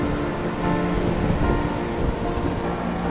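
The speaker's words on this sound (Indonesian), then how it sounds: "Pantainya sedang besar ombaknya semalam" Big surf from a full-moon swell rolls onto Drini beach in Gunung Kidul on Java's south coast, a steady, loud roar of breaking ocean waves with wind rush throughout.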